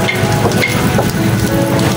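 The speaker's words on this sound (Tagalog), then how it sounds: "Grabe ulan!" Heavy rain pours steadily in Nakar, Quezon, Philippines, a dense, loud hiss of drops hitting surfaces, with no voices over it.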